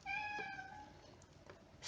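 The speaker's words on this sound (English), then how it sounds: "If you can hear him meowing." A house cat meows in a kitchen while soup simmers, a single drawn-out, clearly pitched meow up close, fading into quiet room noise with no talking.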